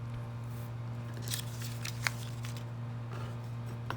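Scissors snip through fabric pattern pieces in short crisp bursts, a few quick cuts spaced irregularly over a steady low electrical hum, close and quiet with no talking.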